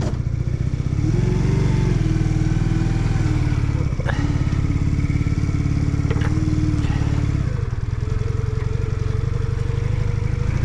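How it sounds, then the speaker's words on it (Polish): A motorcycle engine running steadily as it rides around a farmyard, loud and close with a constant chugging rumble, pitch shifts as it changes speed, and occasional clatter. "jak udało się go odpalić, to się przejedziemy, chociaż po podwórku"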